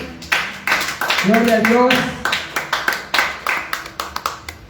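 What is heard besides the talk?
congregation applauding in church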